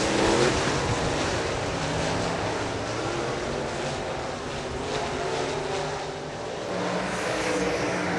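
Late model race cars roar past at Salina Speedway, a loud sustained broadband engine wash that swells and fades slightly as the pack passes, with no talk audible.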